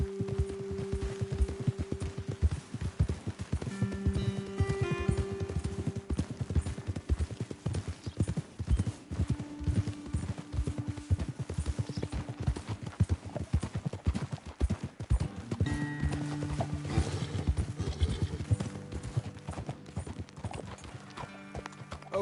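Horses clip-clop at a steady pace across Red Dead Redemption terrain, hooves beating in dense rhythm close by, with a whinny and tonal background music under the hoofbeats.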